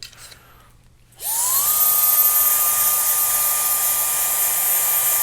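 A hair dryer with a diffuser attached switches on after a quiet moment and rises to a loud, steady whine with rushing air, blowing onto the crown of a textured crop.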